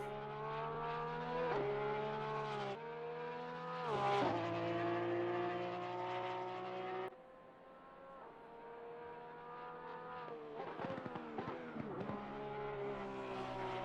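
The number 92 Porsche race car drives on track at Watkins Glen during an endurance race, its engine a loud, steady, harmonic drone that dips and shifts pitch with gear changes and throttle lifts.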